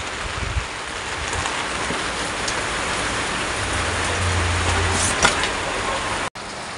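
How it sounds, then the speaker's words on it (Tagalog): Heavy typhoon rain pouring down in a steady, dense roar close by, unbroken for several seconds with a faint low rumble partway through and a brief dropout near the end. "napakalakas ng ulan"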